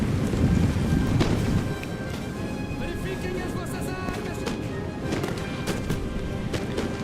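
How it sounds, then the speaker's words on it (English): Musket fire crackles in a Napoleon Total War battle as scattered sharp shots pop over a dense, rumbling wash of battle noise. "And they are shooting at me, which I do not like."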